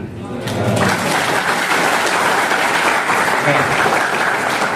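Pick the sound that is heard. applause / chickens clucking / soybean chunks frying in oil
applause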